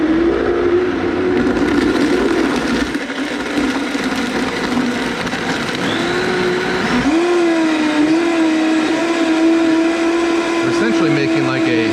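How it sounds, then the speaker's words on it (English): A countertop blender pureeing corn and basil for a chilled soup, running loud and steady with a whining motor pitch that jumps higher partway through as the speed increases. "always start your blender low. And then increase the heats, increase the speed slowly"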